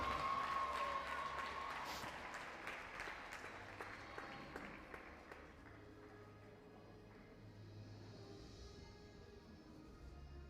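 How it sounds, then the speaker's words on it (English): Audience applause at a national schools cross country championship prize giving rings out loudly at first, a dense patter of many hands that gradually thins and fades away. "A round of applause for him, please."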